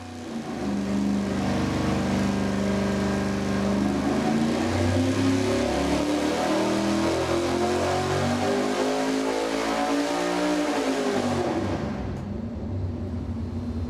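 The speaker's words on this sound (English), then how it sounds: "I like the higher acceleration rate for the sound of that thing zinging up" A V8 engine pulls on a dyno under fast acceleration, its loud, close roar climbing steadily in pitch for about eleven seconds before cutting off abruptly.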